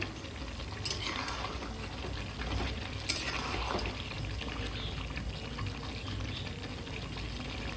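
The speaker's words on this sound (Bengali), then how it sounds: "তো এরকম করে মাঝে মধ্যে নেড়ে নেড়ে চেড়ে ভালো করে কষিয়ে নিতে হবে সুন্দর করে" Mutton curry with potatoes being stirred and sautéed in a pan, a low steady sizzle under occasional scraping and clinking spoon strokes, fairly quiet and without talk.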